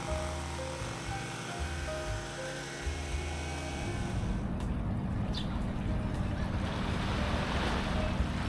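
Ocean surf washing ashore at Shilaoren Beach in Qingdao, China, a steady close roar of breaking waves with wind noise that swells louder and denser about halfway through.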